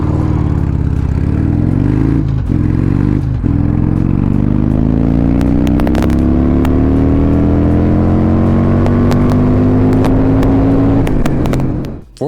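A boosted motorcycle engine pulls hard in a single gear from 40 to 80, its loud, close exhaust tone rising steadily for about eleven seconds with occasional clatter before abruptly cutting off.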